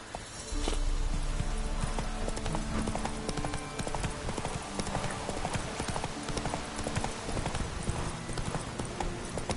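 Roach, the horse in The Witcher 3, gallops with a fast, steady rhythm of loud close hoofbeats that runs the whole time after a brief start, with a voice briefly heard over the hooves.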